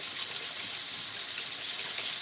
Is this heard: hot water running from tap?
yes